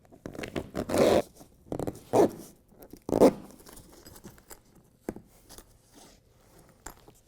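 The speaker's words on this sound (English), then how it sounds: "get the edges of the zipper together, and then you can go ahead and pull a long run" A BedTred Ultra truck bed liner zipper is joined in a 2017 Ford F-350 bed: several quick, rasping zip pulls in separate bursts with quiet gaps between them, near and fairly soft.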